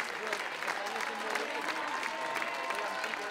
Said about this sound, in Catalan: un fort aplaudiment per les colles